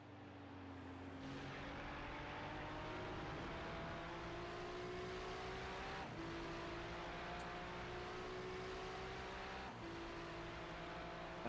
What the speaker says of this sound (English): I think I can actually hear his car.